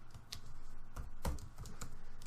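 Soft, quiet keystrokes tapping a short name into a computer keyboard, a few irregular clicks with faint room noise and no speech.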